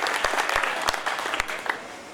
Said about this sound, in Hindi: जोरदार ताली मूसल साहब के लिए